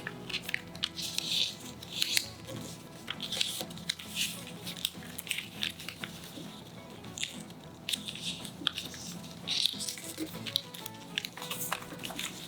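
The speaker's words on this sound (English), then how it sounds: "Put your fingers between two layers of the paper and flatten it in triangle." Paper being folded and creased into an origami rocket, with soft crinkles, rustles and pressing crunches that come close and steady and irregular throughout, with a tonal background hum underneath and no talk.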